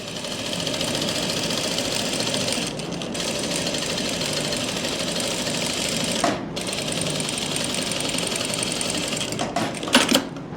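A sewing machine runs loud and steady, stitching pleats on palazzo pants, with a continuous close whirring drone and only a few very brief breaks.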